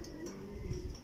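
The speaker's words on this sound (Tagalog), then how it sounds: "Naunahan si Reggie natin mga kalapatid" Racing pigeons back from a 319 km derby race out of Laoag, Ilocos, cooing softly at the loft in a short burst of low, murmuring calls amid background noise.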